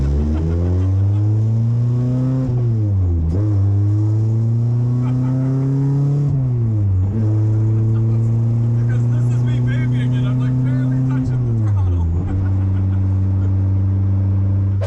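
A Honda B18C VTEC Type-R engine swapped into a 1967 Morris Mini Van revs hard and loud in repeated rising and falling sweeps with a sharp, sensitive throttle and strong harmonic whine.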